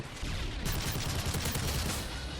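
Rapid automatic assault rifle fire in Call of Duty: Modern Warfare bursts continuously for a couple of seconds, sharp repeated cracks close and loud.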